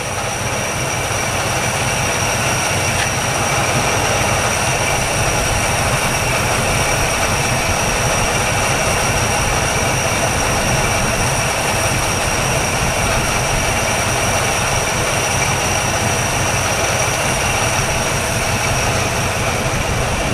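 A 1962 Chevy engine, parked for 35 years and now warmed up after an oil change, runs loud and steady at idle with a constant even drone and no misses.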